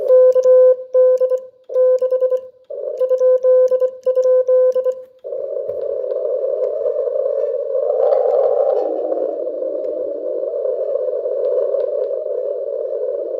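Morse code beeps on ham radio tap out in short bursts, then a steady tone hums with static and a faint wavering signal in the noise.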